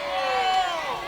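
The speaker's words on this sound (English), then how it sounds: "the home crowd did not like that" Home crowd at a high school softball game voicing disapproval, a sustained murmur of many voices with a groaning tone running throughout, fairly loud and steady.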